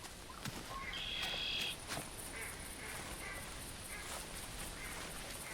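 Faint, repeated mallard hen quacks come from a distance over a steady hiss of outdoor background noise, in the video game theHunter 2017.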